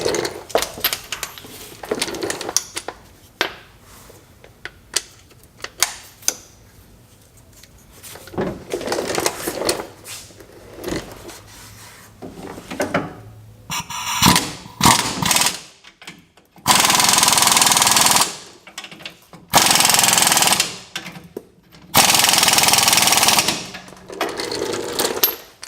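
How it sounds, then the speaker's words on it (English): A power tool runs bolts up tight on a Rough Country leveling lift kit fitted to a Chevy 1500. Scattered clanks and rattles come first, then three loud, sustained bursts of a couple of seconds each. "Now all we got left to do is run the bolts up tight."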